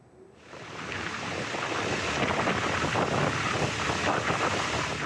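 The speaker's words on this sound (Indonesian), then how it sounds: "Angin kencang serta ombak besar membuat kapal yang akan bongkar muat kesulitan bersandar di dermaga" Strong wind and heavy surf batter Merak port in Banten during stormy night weather, a dense roaring wash of waves and gusts that swells in after a quieter first half-second and stays loud and steady, with wind buffeting the microphone.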